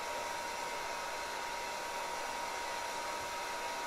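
A hot air blower heating automotive vinyl wrap gives off a constant, even whoosh of air with no change in pitch or strength from start to end.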